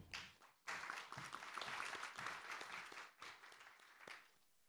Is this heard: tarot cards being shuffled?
no